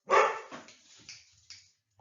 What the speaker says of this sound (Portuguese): Cachorro latiu